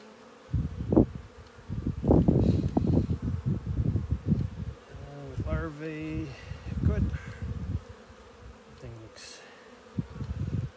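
Honeybees buzz around an open hive during an inspection, a close, fluctuating drone with bees passing near, while a person talks quietly underneath.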